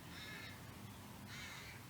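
Two harsh crow caws ring out in a park, one near the start and one about a second later, moderately close over a faint outdoor background.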